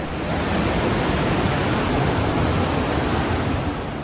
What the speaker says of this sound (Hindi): पानी की रफ्तार और शोर को सुनकर ये स्थानीय लोग डरे हुए हैं।